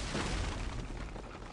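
TNT blows up after being shot in Uncharted: Drake's Fortune, a dense, rumbling blast with broad noisy debris that fills the whole moment and fades only slightly.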